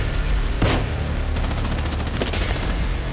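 Dense gunfire rattles through a World War II battle scene, loud, close volleys and machine-gun bursts that blend into a continuous crackling roar without pause.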